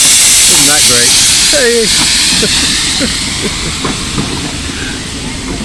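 A passing train at the seaside gives off a broad, loud hiss that fades steadily over several seconds, with excited voices calling out over the start.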